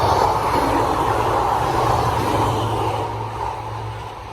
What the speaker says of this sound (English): In a second, you'll see the train going right behind me.